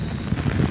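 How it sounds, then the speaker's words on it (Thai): Steady rain pours outdoors after a long wet morning, a dense continuous hiss and patter close by with no voices. "ฝนยังบ่หยุด"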